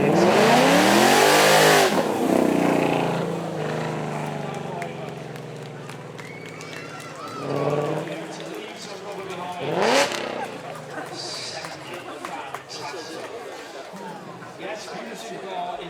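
A supercar revs hard at Beaulieu Supercar Weekend, spinning its tyres into smoke: a loud, roaring burst of engine noise up front that then drops to a lower, rumbling drone under ongoing commentary and crowd chatter.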